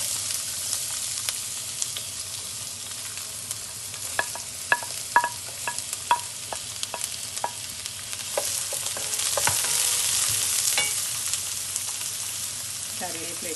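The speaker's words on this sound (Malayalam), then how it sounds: "നമുക്ക് സവാള ആഡ് ചെയ്യാം." Onions fry for a Kerala-style green peas curry with cloves, fennel seeds and mace, a soft continuous sizzle punctuated by crisp clicks of stirring against the pan, with the sizzle swelling louder toward the end.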